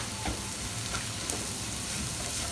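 Onions frying with chili, coriander and amchur powders in a pan, a dense, loud, continuous sizzle close up, with stirring scrapes and one brief sharp tap.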